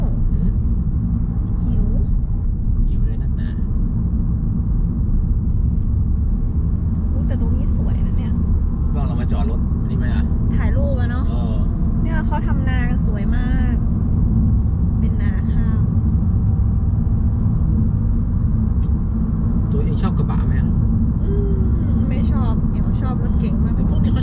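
A new motorbike is ridden with its engine rumbling loud and low the whole time, while people talk over the constant drone.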